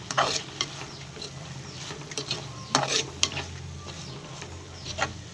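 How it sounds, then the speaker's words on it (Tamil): Ground coconut stirred into a banana flower kootu in a pan, a close spoon scraping and clinking in irregular strokes over a faint sizzle, moderately loud, with no talk. "தேங்காய் சேர்த்து நல்லா கொஞ்சம் கிளறி விட்டுக்குவோம்"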